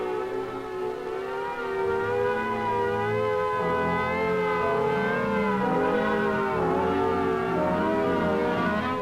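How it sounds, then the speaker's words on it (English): A civil defense siren wails, rising and falling in a steady warble, sustained and loud throughout, with no one speaking. "the alert will be a warbling siren blast lasting 3 minutes."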